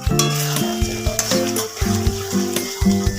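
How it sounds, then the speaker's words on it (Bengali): Chicken sizzles in a pan as it is stirred with Kashmiri chilli powder for a fenugreek-leaf chicken dish, giving a steady frying hiss with spoon scrapes, while music plays underneath. "দিয়ে আবার এটাকে ভালোভাবে নাড়াচাড়া করছি।"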